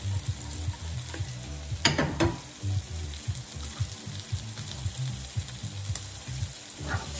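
Pork flash-frying in a very hot pan gives a steady, close sizzle with bursts of crackle and a few sharp spits, heard alone with no talking.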